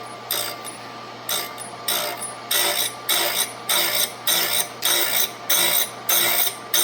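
Piston rings being ground on a hand-cranked ring grinder, a steady run of rhythmic clicking, whirring strokes about twice a second, close and fairly loud over a low hum, with no talking.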